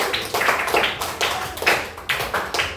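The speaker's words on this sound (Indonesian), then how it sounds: "Kasih aplaus dulu." Small-group applause in a training session, about a dozen loose, uneven claps in a steady rhythm, close and fairly loud, with no talking.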